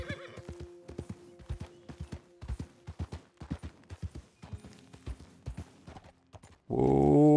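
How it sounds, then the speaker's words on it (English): Hooves clip-clop in a quick rhythm as wild horses run in the video game Red Dead Redemption 2, then a loud neigh breaks out at the end. "I guess it was those wild horses I was hearing"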